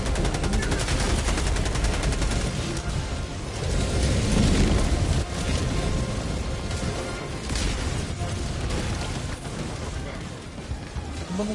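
Dense, continuous gunfire and explosions from a Helldivers II battle, a steady loud barrage of rapid shots and booms with no clear pauses, voices faintly mixed into the chaos.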